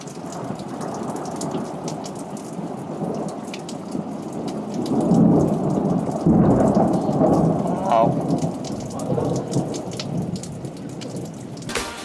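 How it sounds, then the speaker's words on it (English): A dramatic thunderstorm in the UK: steady, heavy rain hisses throughout while low rolling thunder swells and rumbles in the middle, loud and continuous, with no voices. "That's right, dramatic thunderstorm."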